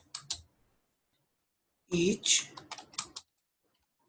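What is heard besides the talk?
typing on a computer keyboard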